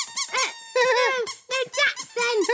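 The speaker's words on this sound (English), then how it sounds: "I think I like the squeaky thing better." A squeaky toy squeaks in quick, high, tonal bursts, several sets of close, loud squeals separated by short pauses.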